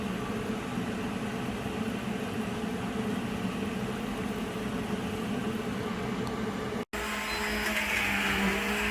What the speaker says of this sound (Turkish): şu an onları püre yapıyoruz. Mikserle.